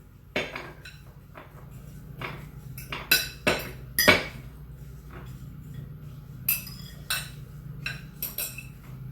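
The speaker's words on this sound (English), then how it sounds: "I'm taking a spoon and I'm going to be laying it on top evenly." A spoon scrapes and taps against baking dishes while apple crisp topping is spread over apples, giving a series of irregular sharp metallic clinks and knocks, close and fairly loud, over a faint background hum.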